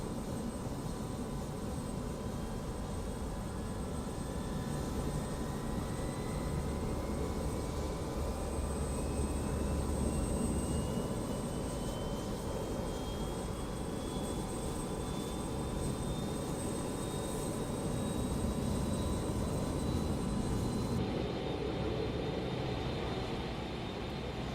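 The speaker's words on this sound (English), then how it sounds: "Engine 4. Selecting engine start" An Avro RJ85 jet engine, engine 4, spooling up during start in the MSFS 2024 flight simulator: a steady broadband roar with a thin whine rising slowly in pitch, continuous and fairly loud, with no talking.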